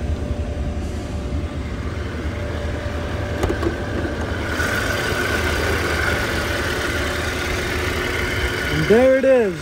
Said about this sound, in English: There it is, V6 supercharged. A true handcrafted AMG motor. Running just like it needs to.